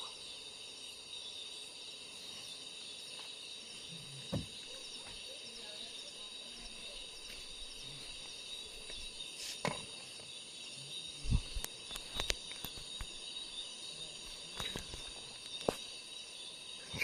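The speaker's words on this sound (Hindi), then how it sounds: "झींगुर की आवाज़ कुछ ज़्यादा तेज़ है" Crickets trilling loudly in a jungle at night, a steady high shrill chorus that persists throughout, broken by scattered sharp clicks and knocks nearby.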